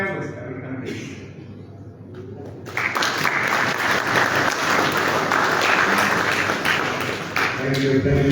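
Audience applause at a meeting of West African central bank governors in Liberia. It swells suddenly after a brief spoken line and then holds as loud, dense, sustained clapping.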